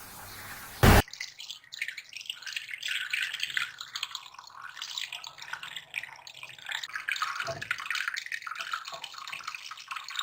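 Water splashes and trickles as homemade mozzarella curds are strained, beginning with a short sharp clatter, then a continuous uneven stream of drips and pouring with occasional louder splashes, close and moderately quiet, with no speech.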